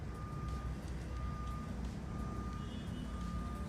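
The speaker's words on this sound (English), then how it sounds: "You can hear a backup noise there from a truck." Truck reversing with its backup alarm sounding a steady series of evenly spaced beeps, moderately distant over a constant low rumble of traffic or engine noise.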